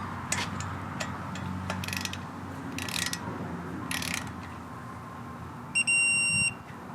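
A torque wrench tightens the bolts on a ZF transmission-to-LS adapter to 15 foot-pounds, giving short ratcheting clicks in several bursts, followed by a brief high beeping tone near the end.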